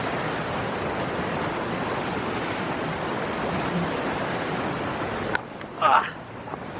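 A mountain river at a crossing below the north wall of Blåmann, a steady, close rushing roar of flowing water that runs unbroken, with a brief louder burst near the end.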